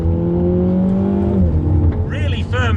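A Mini GP3 in sport mode pulls hard on a race track, its engine note rising steadily from inside the cabin and then dipping at a shift, with someone speaking over the drone toward the end.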